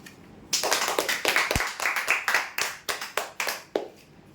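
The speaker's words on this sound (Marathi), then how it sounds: "टाळ्या जोरदार वाजवत जा" A small audience at a weekly prize draw breaking into scattered clapping, a burst of uneven handclaps that thins into a few separate claps, fairly close with no one speaking over it.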